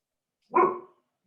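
A single dog bark, close and fairly loud, one short burst with nothing else around it.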